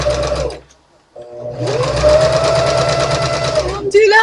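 A sewing machine stitches fabric scallops on a skirt, its motor running steadily in a close whirring drone after a short pause, while someone talks over it.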